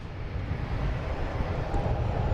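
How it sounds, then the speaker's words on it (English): A JetBlue Airbus A321neo airliner taking off from Boston Logan, bound for London Heathrow: a broad, steady low engine roar, fairly loud and unbroken, with wind buffeting the microphone. "we have a JetBlue taking off, heading to London Heathrow"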